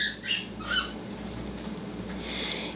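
Pet cockatiels in an indoor clubhouse give a few short, bright chirping calls near the start and again toward the end, standing out faintly over a steady low room hum.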